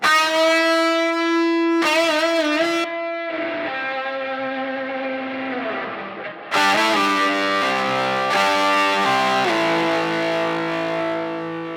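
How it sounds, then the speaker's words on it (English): Lead guitar through the Safari Pedals Dirty Dog plugin, which adds drive and reverb together: sustained, gritty distorted notes with long washy tails, played close and loud with no talking. "Dirty Dog is a really unique reverb. It adds drive and reverb together."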